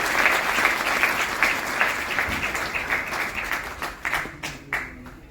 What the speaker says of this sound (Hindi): जोरदार तालियों से स्वागत होना चाहिए।